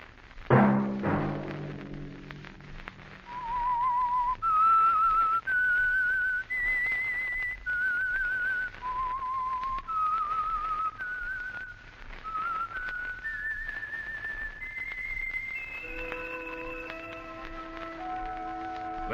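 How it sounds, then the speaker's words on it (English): A person whistles a slow melodic tune, note by note, clear and close, ending with a sustained orchestral chord beneath the final notes. "Let that whistle be your signal"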